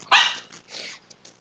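A dog barks loudly and close by in a short burst, followed by softer, fainter barks or yips trailing off within about a second.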